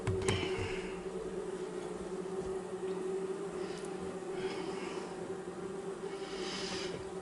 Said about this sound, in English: the bees are all over the sides of the frame